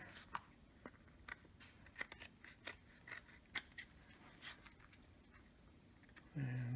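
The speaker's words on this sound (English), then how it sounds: "I make a little diagonal snip here and here." Scissors trim material during a rebuild of Simplex player piano pneumatics, a series of faint, close, crisp snips in an irregular rhythm in a quiet room.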